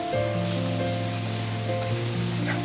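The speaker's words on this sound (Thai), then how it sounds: "ตอนนี้ก็ยังไม่หยุด ไม่ได้หนัก แต่ว่าก็ตกตลอด เป็นฝนพอที่แบบน่ารำคาญนะทำอะไรก็ไม่ได้" Steady light rain falls as a continuous soft hiss, with a low constant hum and a few faint bird chirps in the background.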